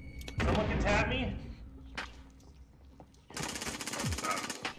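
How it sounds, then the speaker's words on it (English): Gunfire in Call of Duty Warzone, sharp bursts and cracks in a couple of loud clusters, under and between excited player talk. "I'm taking fire."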